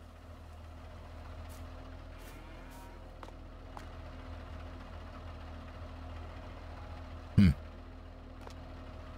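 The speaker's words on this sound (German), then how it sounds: "Motor lassen wir mal laufen." A farm vehicle engine idles in Farming Simulator 22 as a faint, steady low rumble with small mechanical ticks. A single brief thump sounds near the end.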